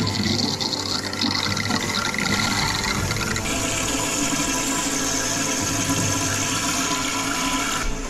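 Water rushes steadily and loudly into a toilet tank during a repair leak check, a continuous gushing fill that shifts slightly in tone partway through.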